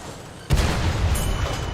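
A tank cannon fires in a video game tank battle: a sudden heavy boom, followed by a sustained rumbling roar that stays loud to the end.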